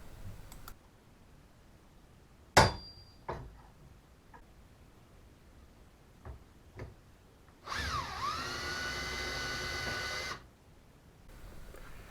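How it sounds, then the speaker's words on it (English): Hatchet and punch striking rebar to set holes while building a pond sea wall with sheet metal: a handful of sharp, isolated metallic taps, one much louder, followed by a sustained mechanical whir lasting a couple of seconds. "we'll use this hatchet and a punch to set the holes before drilling"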